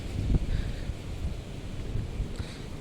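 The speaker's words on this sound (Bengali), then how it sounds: "হাওয়া অনেক বেশি" Strong outdoor wind buffets the microphone on a hot day while walking to a mosque, a continuous low rumbling roar with gusty bumps and no speech.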